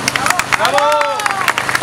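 Loud crowd applause and cheering for a child contestant at a costume casting event, steady clapping with a shouted cheer over it and background babble throughout.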